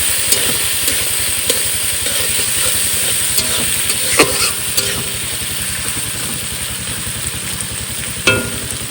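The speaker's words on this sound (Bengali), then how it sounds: "আদা রসুন কাঁচা লঙ্কা এবার মশলাটাকে সুন্দর করে ফ্রাই করবো" Ginger, garlic and green chili spice paste, along with onion, fries in a pan with a steady hiss, broken by occasional stirring scrapes. A low, regular engine-like thrum runs underneath.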